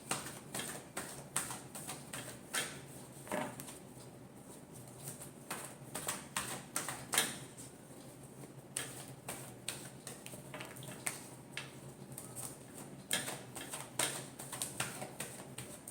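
Tarot cards riffle and flutter in repeated quick bursts of light crisp patter, close and fairly soft, with a faint steady background hum.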